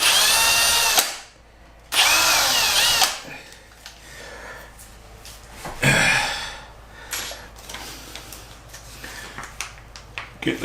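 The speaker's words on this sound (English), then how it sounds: "Then change the drill bit to a slightly wider one" A power drill fitted with a slightly wider bit bores screw holes for window latches in an old house, running in loud close bursts with pauses between them, then shorter intermittent whirs.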